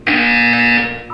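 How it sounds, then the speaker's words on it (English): A Portal 2 test-chamber buzzer sounds once: a loud, steady electronic tone held for about a second, then cut off, with no voices over it. "You will hear a buzzer."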